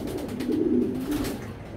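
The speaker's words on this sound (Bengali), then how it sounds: "অরিজিনাল বেলজিয়ামের রেড ফক্স ব্লাড লাইনের একটা কবুতর" A red checker racing pigeon of Belgian Red Fox bloodline coos in a low, steady, rolling tone that swells briefly at its middle, close and fairly loud for nearly two seconds.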